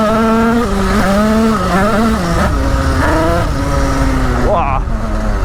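A motorcycle engine revs close by in rising and falling bursts, its pitch swooping up and down through several throttle blips and ending in one sharp climb.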